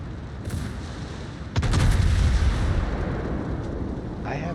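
Heavy battleship main guns firing in a naval combat game, a deep booming salvo of several rapid blasts that rolls into a long, rumbling roar, followed by lingering low echoes and a faint whoosh.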